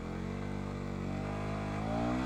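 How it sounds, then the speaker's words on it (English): A KTM Duke 250 motorcycle engine revs hard and accelerates, with a loud, continuous rising drone and steady harmonics climbing through the gears, close to the listener and with no talking. "I'll do a 0 to 100 and revving it to 6000"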